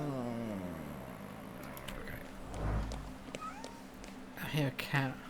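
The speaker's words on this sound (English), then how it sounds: "I hear a cat or something." A cat meows in the dark RPG The Thaumaturge, several drawn-out, rising and falling calls heard with someone talking over them and a few clatters toward the end.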